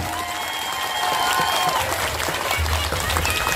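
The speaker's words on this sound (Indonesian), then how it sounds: "Saya minta tepuk tangan dulu dong buat Perhamus." An audience at a Maulid Nabi gathering of a women's hadroh group in Bekasi applauds, a dense wash of clapping and crowd noise that fills the space evenly, with faint voices underneath.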